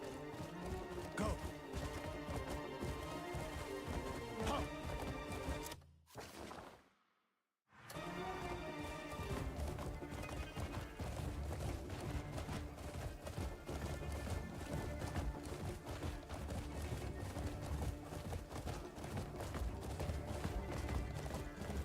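Galloping horse in a video game, a steady clip-clop of hooves running under game music and effects, loud throughout apart from a brief silent gap near the start.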